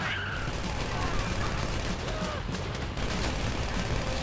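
Dense, continuous gunfire crackles through a chaotic heist battle in the video game GTA V, with shouting voices mixed into the steady roar of shots.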